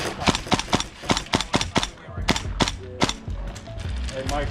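Rapid sharp airsoft gun shots crack out in quick irregular bursts during outdoor cover fire in an airsoft skirmish, close and loud, with shouted talk mixed among them.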